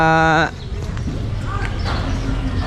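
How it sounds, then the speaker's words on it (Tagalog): A water buffalo gives a short harmonic low call at a livestock stockyard, then farm animal shuffling and clip-clop steps follow amid steady outdoor noise. "kalabaw yun oh."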